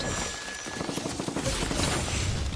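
Video game gunfire in a battle royale match, rapid bursts of automatic shots crackling close and loud, overlapping in a dense fusillade throughout.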